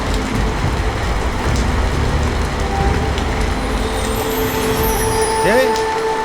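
Steady rain falling outdoors, a dense continuous patter that stays loud throughout, with a low rumble underneath and a brief wavering tone near the end.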